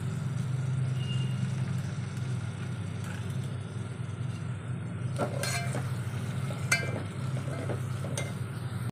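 Tomatoes softening in a pan with spices for a wedding-style sambar, a faint steady low sizzle and hum with a few sharp clinks of a utensil stirring against the pan midway, no talking.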